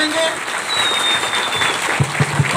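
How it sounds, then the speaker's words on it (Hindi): A crowd at a Sarna community gathering in Jharkhand gives loud applause for MLA Bandhu Tirkey, a thick wash of clapping with a voice over the loudspeaker and a few sharp thumps near the end. "एक बार जोरदार तालियों के साथ इनका धन्यवाद करेंगे"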